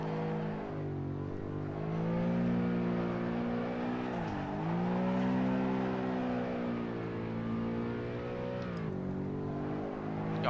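A car power drifting in the racing sim Assetto Corsa, its engine holding a steady, droning high-rev note that rises and dips slightly as the throttle shifts, close and continuous with no talking.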